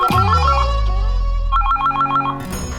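A home telephone rings with a repeating electronic melodic trill, two bursts separated by a short pause, loud and close with a low music bed underneath.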